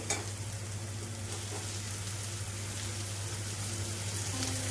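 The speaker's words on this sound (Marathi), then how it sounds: "आता मी इथं टोमॅटो पण टाकून घेते।" Onion and tomatoes sizzle steadily in hot oil with curry leaves, a continuous broadband frying hiss under a low hum, while whole masoor is being prepared.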